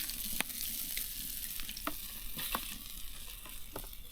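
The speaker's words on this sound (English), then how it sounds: "I'll give it an extra minute in the oil just to get it nice and dark and crispy" Battered walleye fries in hot oil with a steady, close sizzle, broken by scattered sharp pops and crackles.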